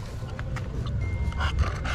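A dog pants steadily and fairly close, with rough breathy puffs and a low growly undertone throughout.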